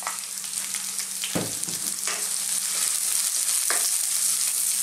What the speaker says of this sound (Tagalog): lulutuin na po natin yung ating bawang at ating sibuyas